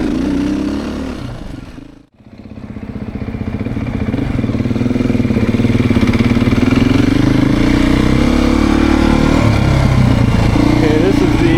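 A 2024 Beta 430RR-Race edition dirt bike engine runs close by. It is loud and steady, with a brief sharp dip before the revs climb back and hold a strong, even drone.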